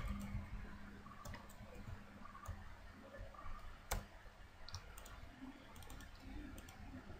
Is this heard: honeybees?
no